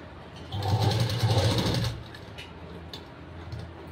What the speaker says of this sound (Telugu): ఈ రౌండ్ నెక్ మీదనే నేను స్టిచ్చింగ్ అనేది చేసుకుంటున్నాను